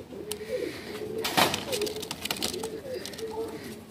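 Blue talking pigeons at a pigeon sale in Bhopal coo in repeated low murmuring phrases throughout, with a brief louder flutter or scuffle in the middle and faint background noise.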